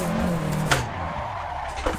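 A car spinning out in the Assetto Corsa racing game, engine droning steadily while tires squeal and skid briefly, the sound close and continuous.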